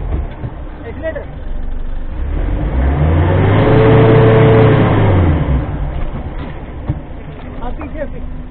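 A car engine revs up as the accelerator is pressed, swelling to a loud peak mid-clip and falling back to idle, with voices nearby during a rear differential check.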